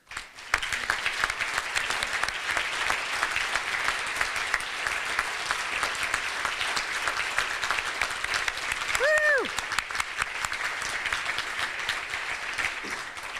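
Sustained applause from a large crowd at a Rotary meeting, steady and dense throughout, with a brief whistle-like tone partway through.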